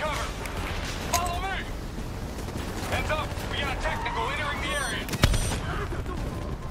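Bombing and gunfire in Call of Duty Black Ops III: steady gunfire and explosions rumble in the background, with one sharp blast near the end, while voices talk over the combat.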